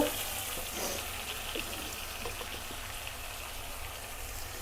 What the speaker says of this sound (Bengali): তো প্রথমে সিম আর বেগুনটারে তেল দিয়ে একটু লবণ দিয়ে ফ্রাই করে নেব।